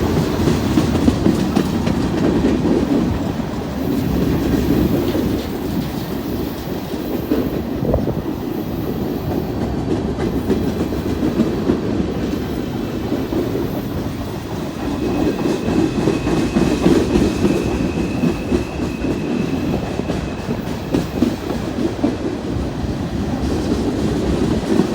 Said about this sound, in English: Old boxcars on this train, and a lot of them.